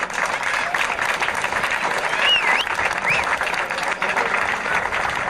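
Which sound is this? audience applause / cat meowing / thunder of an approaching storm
audience applause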